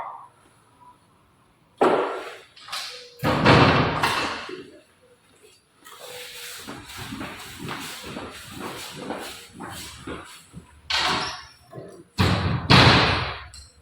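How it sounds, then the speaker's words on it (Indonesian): A window is closed with several sharp thumps and sliding, hissing scrapes in separate bursts, close by, with quiet gaps between them. "Menutup jendela."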